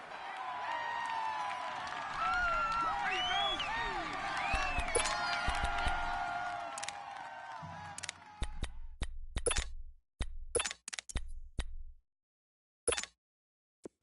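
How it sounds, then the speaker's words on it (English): Stadium crowd noise in a PS4 football video game, a loud sustained roar with cheering that swells, then breaks into choppy bursts and drops out near the end. "The crowd getting into it as we come up on a big 3rd down."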